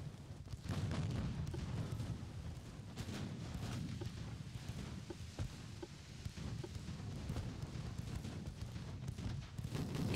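Continuous heavy rumbling barrage of distant naval cannon fire with scattered sharp booms, sustained throughout without pause, in the game Ultimate Admiral: Dreadnoughts.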